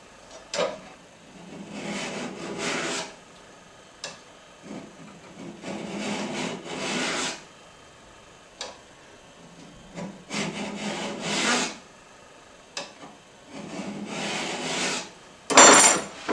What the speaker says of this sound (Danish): så skal den lige files med en fladfil